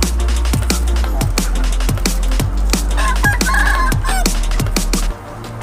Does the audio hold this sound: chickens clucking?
yes